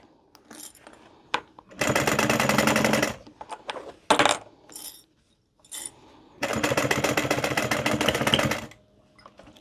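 A sewing machine stitches a lanyard in two long, steady motor-driven runs, loud and close, separated by brief clicks and handling noises.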